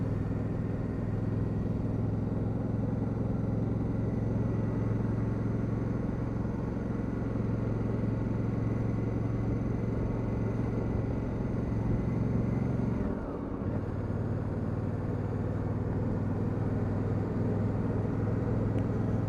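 A 2019 Honda Africa Twin 1000 (CRF1000L) is ridden along a road, its engine giving a steady low rumble with constant wind noise, with a brief dip partway through.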